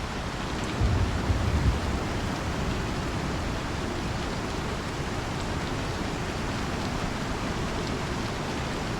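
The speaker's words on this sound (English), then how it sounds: "when it rains here at Zephyr, it rains hard" Heavy rain pours down at Zephyr in Star Citizen, a steady, dense hiss that stays loud and unbroken, with a brief low rumble near the start.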